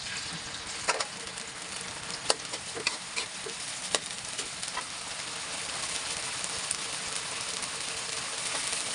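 Ginger and sardines frying in a pan with garlic, a steady crackling sizzle with scattered sharp pops and spits, close and continuous throughout with no talking.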